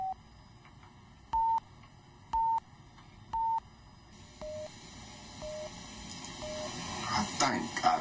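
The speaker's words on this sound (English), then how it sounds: "The tones are computer-generated signals used to calibrate the implant." Computer-generated calibration beeps for a cochlear implant sound one after another, short steady tones spaced about a second apart with quiet between them, followed by softer, lower beeps as hushed background voices and movement rise toward the end.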